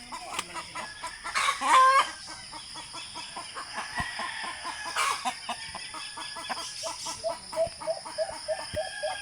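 Chickens cluck and rooster calls ring out on a provincial farm in the morning. Two loud crows stand out above a steady scatter of nearby clucking, with no voices heard.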